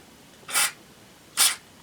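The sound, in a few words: spraying WD-40 lubricant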